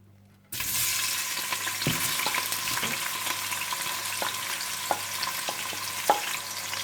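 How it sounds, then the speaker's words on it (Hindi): Chopped onion with whole spices such as cumin, black pepper, cloves, cardamom, bay leaf and cinnamon hits hot oil with a sudden loud burst, then a dense continuous sizzle sprinkled with small pops and crackles. "सबसे पहले आप तेल गरम कर लें और इसमें आप डाल दें कटी हुई प्याज और साबुत खड़े मसाले"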